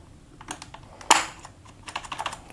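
A plastic keycap snaps back onto a computer keyboard after removal with a cheap keycap puller, one sharp click standing out amid lighter tapping and handling clicks close by.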